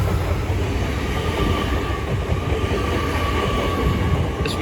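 A Class 800 train runs through Peterborough station on the East Coast Main Line, a loud, steady rolling roar with rail rumble and a faint whine, close by and continuous, with no talking.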